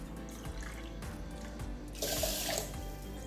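Water pours from a tap into a bowl of rice for rinsing away starch, a steady close splashing stream that grows louder and brighter partway through.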